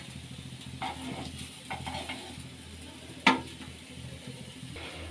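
Soya chunk tikkis fry in a pan with a soft, low sizzle, broken by light stirring or turning scrapes and one sharp utensil clink partway through.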